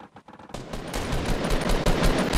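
In a Fortnite Battle Royale match, a rapid burst of video-game gunfire crackles continuously and fairly loud after a short quiet start.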